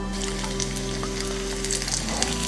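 Potato cutlet frying in a non-stick pan, a steady close sizzle with crackling spits and a low hum throughout, no talk.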